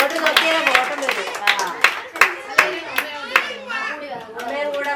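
Young children at a play school Onam celebration clap their hands in scattered, uneven bursts, close by, with adults and kids talking over them.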